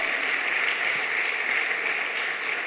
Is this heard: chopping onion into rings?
no